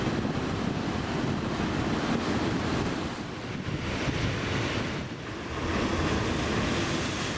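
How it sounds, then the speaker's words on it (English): Continuous roar of sea surf rolling onto the shore at Dakar, Senegal, swelling and easing, with gusty wind buffeting the microphone throughout. "I could hear the waves crashing against the shore"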